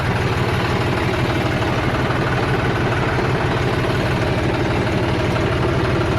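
A tractor engine idles steadily and close, a constant low chugging rumble with no voices.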